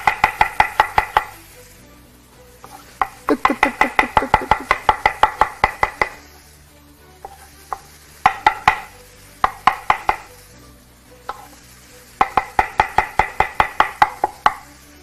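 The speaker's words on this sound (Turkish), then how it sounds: "En zevkli şey biz aşçılar için mantar doğramak." A cook chops mushrooms with a knife on a board: rapid, crisp, evenly spaced taps in bursts of several seconds, with short pauses and a few scattered single cuts between them. No one speaks over it.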